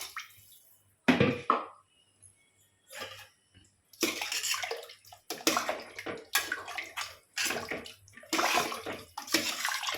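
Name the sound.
water being poured into pot for basmati rice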